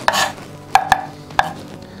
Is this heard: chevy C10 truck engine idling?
no